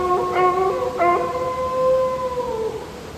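A dog yelps and howls after being struck on the leg by a thrown stone, a few rising cries followed by one long drawn-out wail, fairly close against steady background noise, with no talking.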